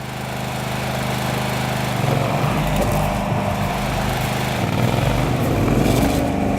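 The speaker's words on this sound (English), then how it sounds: "Once the Chiemsee range pumps have started working" A Mini Chiemsee drainage pump runs with a steady, loud mechanical drone that grows slightly rougher and heavier after a couple of seconds and holds constant, close by and without speech.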